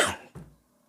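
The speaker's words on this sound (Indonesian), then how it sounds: "aduh batuk" A single close, sharp cough followed by a smaller second catch of the throat, loud against a quiet room with no talk.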